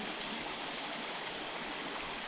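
A creek at a water crossing on the Georgia Pinhoti Trail runs low after little rain, giving a steady, soft rush of flowing water with no voices.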